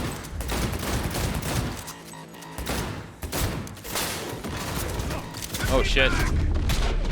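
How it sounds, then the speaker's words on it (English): Enemy gunfire in Cyberpunk 2077 on Very Hard difficulty: sustained bursts of shots with heavy low-end booms, loud and continuous through most of the stretch, while a man reacts with a brief exclamation. "He shot me behind cover"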